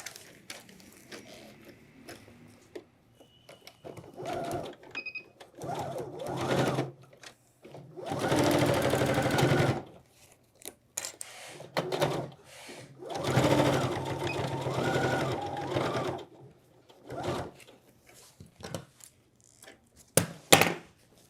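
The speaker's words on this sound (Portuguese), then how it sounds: "E vou passar a costura aqui com toda a camada" A sewing machine stitches through several layers of fabric in a craft sewing workshop, running in a few bursts of several seconds each with quiet pauses between, close and fairly loud, with no talking.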